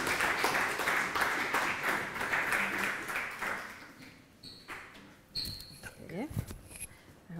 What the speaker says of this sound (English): And a warm applause for Dina.